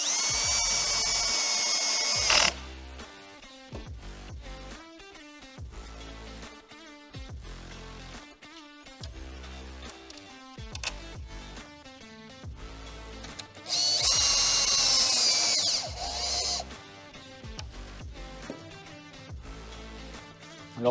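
A power tool whirs in bursts while end screws are tightened on an E-Props constant-speed propeller hub, short close drill-like runs separated by quieter handling noises and small metallic taps.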